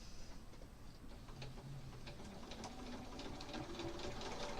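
A sewing machine stitching the last seam of a quilt, a faint, steady rapid whirring and ticking that runs throughout at low volume.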